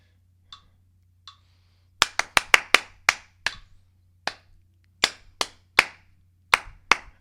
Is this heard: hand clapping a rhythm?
yes